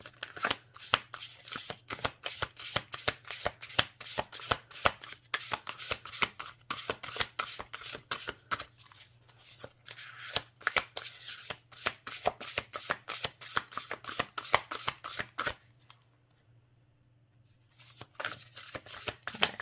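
An oversized tarot deck is shuffled by hand, producing rapid, regular card flutters and snaps close up, continuing for most of the stretch before a short quiet pause and a final few riffles, with no voice.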